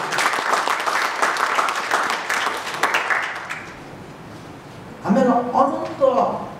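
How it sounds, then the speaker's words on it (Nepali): A church congregation applauds loudly for God during a Nepali sermon, the dense clapping fading out after a few seconds into quiet before the preacher's voice resumes. "परमेश्वरलाई ठुलो ताली बजाएर"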